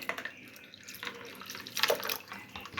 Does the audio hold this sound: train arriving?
no